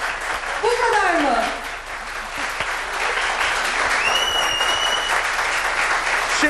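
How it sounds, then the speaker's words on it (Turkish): Sustained audience applause fills a studio music show, dense and steady throughout, while a voice talks over it and a few brief whistles rise above the clapping. "Bu kadar mı alkış?"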